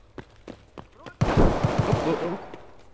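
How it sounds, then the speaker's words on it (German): Gunfire in Escape From Tarkov breaks out after a few quiet taps and steps, becoming a loud, dense burst of rapid shots that rings on and slowly fades. "Oh, da unten wird schon geschossen."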